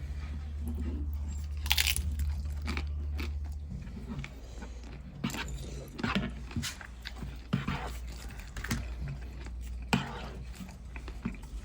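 Close, crisp crunching bites of crunchy tortilla eaten with green chili stew, with irregular chewing snaps and crackles, fairly loud against a low steady hum.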